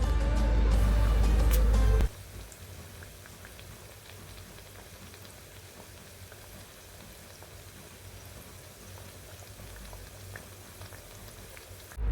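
Banana fritters coated in oats fry in hot oil, giving a steady, dense sizzle and crackle close by that runs through the whole stretch after a louder opening moment, with no talking.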